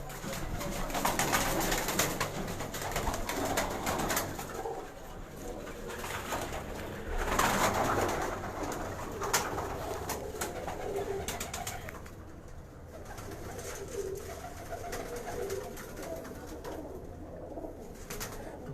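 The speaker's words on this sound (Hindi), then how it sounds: "ये मैं आपको उन कबूतरों का शौक करवा रहा हूँ जो छत पे मेरी पसंद के हैं" Pigeons coo steadily on a rooftop, with soft repeated calls from several birds and faint flapping and rustling. No voices are heard.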